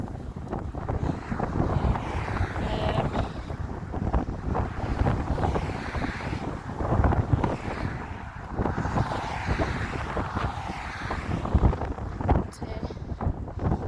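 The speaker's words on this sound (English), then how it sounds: "it's breezy down this bit" Wind gusting outdoors on a breezy walk from Alness to Invergordon, buffeting the microphone with loud rumbling bursts that rise and fall continuously.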